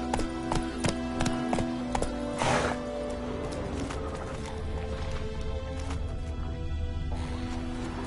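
Roach the horse galloping in The Witcher 3, with quick rhythmic hoof clip-clops and thuds over a droning game background, a whoosh partway through, then softer hoofbeats continuing under the ambience.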